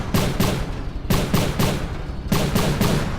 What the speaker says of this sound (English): We've gone for 70mm shells, which shoot at around about 180 rounds per minute.